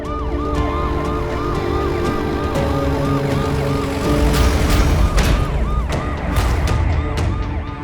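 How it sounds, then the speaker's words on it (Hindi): A wailing ambulance siren sweeps up and down repeatedly, loud and close, over steady traffic rumble, with a horn-like burst near the end. "उधर से एम्बुलेंस आ रही है, पहले मरीज को निकल जाने दीजिए"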